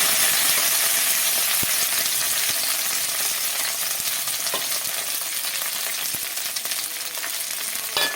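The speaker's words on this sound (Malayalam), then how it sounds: "കറിവേപ്പില ചെറുതായിട്ടൊന്ന് എണ്ണയ്ക്കകത്തൊന്ന് ചെറുതായിട്ടൊന്ന് വാട്ടിയെടുക്കാണ്" Loud, steady sizzle of curry leaves frying in hot oil up close, dense crackling throughout with occasional faint clicks, no voices.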